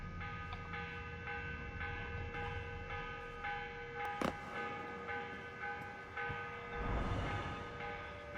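A morning bell rings in the video game Assassin's Creed Revelations, its sustained metallic tones layered over a low ambient hum, with one sharp strike and a swelling low rumble near the end.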